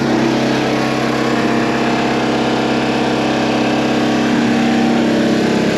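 A Bomag compactor with an air-cooled engine runs steadily nearby, a loud continuous idle-like drone with strong low harmonics and no pauses throughout.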